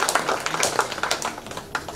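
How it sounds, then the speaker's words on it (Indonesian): A small audience at a Toraja leader's inauguration ceremony claps for a man and his family, a brief scattered patter of hand claps at moderate distance. "Tepuk tangan Pak Christian dan keluarga."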